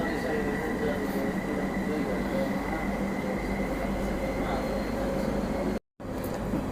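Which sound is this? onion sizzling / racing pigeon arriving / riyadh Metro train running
riyadh Metro train running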